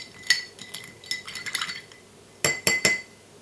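A spoon clinks against a glass while stirring a drink with a cherry in it, a quick run of small chimes early on, quieter scraping, then three louder ringing taps close at hand.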